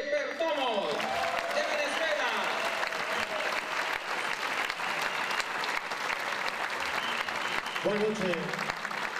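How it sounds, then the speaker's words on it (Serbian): Sustained audience applause at a jazz festival fills the whole stretch with steady dense clapping, while a voice speaks briefly over it near the start and again near the end. "Molim vas jedan veliki aplauz"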